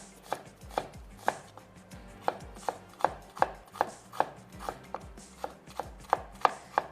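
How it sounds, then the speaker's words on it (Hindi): Knife chopping onions on a board, a steady series of sharp, close taps at a brisk, slightly uneven rhythm, with no talking. "1 से 2 ले लीजिए प्याज और उसको हम कर लेंगे चॉप"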